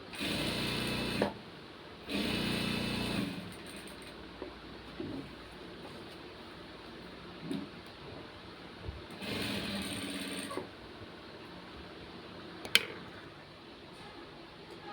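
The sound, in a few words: sewing machine stitching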